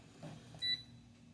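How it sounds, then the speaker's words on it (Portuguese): A multimeter in continuity mode gives one short, high beep when its two test probes touch, quiet and alone after faint handling noise. "se eu encostar uma ponteira na outra, ele emite um bip"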